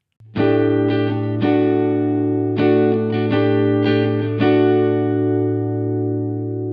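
Electric guitar chords strummed and left ringing through a subtle detune effect, a faint shimmering doubled-voice wobble over the sustained notes, played alone.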